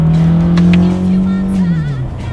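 A 2019 Toyota Camry accelerates with a close engine drone rising steadily in pitch, then dropping sharply as a paddle-shifted gear change engages.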